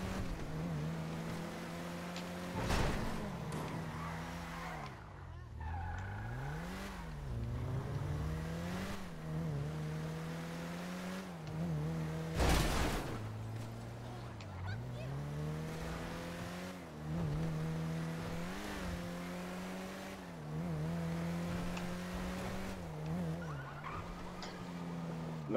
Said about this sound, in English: We're just driving around a little bit now.